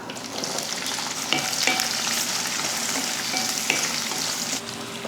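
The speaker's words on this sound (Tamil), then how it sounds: "வெங்காயம் இந்த அளவுக்கு வதங்கினா போதும்" Small shallots and a large onion sautéing in hot oil with whole spices, stirred in a pan for a mutton dish, give a steady close sizzle throughout with a few scraping clinks from the spoon.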